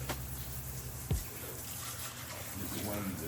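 Lukewarm tap water runs over a whole Thanksgiving turkey being washed before deep frying. It makes a faint, steady splashing hiss with one brief thump.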